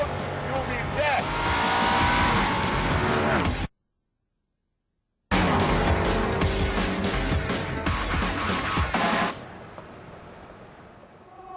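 An Ascari A10 sports car driven flat out, a loud close engine roar with rising revs and a brief break, then fading away at the end; a voice talks over parts of it.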